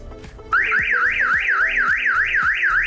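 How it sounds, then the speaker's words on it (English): A cheap remote start kit's alarm siren on a Ford F150 pickup wails loud and close, a rapid warbling tone rising and falling repeatedly after a brief lead-in of background noise. "This is our alarm, so we're gonna see how loud it is."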